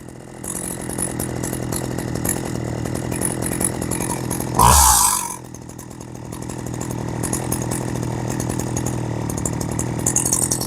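A Husqvarna 40 chainsaw idles steadily with its chain still, a loud engine drone that briefly surges in a short blip of throttle near the middle before settling back to a smooth idle.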